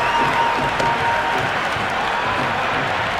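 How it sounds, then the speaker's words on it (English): A stadium crowd in the Cricket 26 video game cheers and applauds after a boundary four in an India vs Pakistan T20 match, a steady, moderately loud roar of clapping and cheering. "The crowd love that one."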